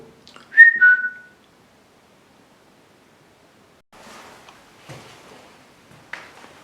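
A single short, clear whistle rings out in an empty old gaol corridor, followed by a long silence and then faint, scattered rustling and shuffling sounds nearby.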